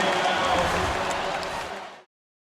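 A basketball arena crowd roars and cheers for Steph Curry after a steal and shot, a dense, loud wall of noise with voices mixed in, holding steady before cutting off after about two seconds.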